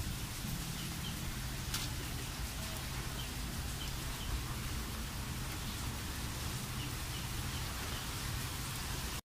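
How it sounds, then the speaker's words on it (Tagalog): Dense, constant rainfall hisses evenly for the whole stretch, a steady wash of drops with no pauses and no voices, ending abruptly. "umuulan na naman"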